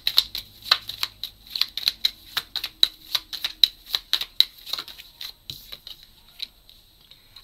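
Tarot cards being shuffled and drawn by hand, a rapid run of crisp close card flicks and riffles, then slower separate snaps as cards are pulled out, no talking.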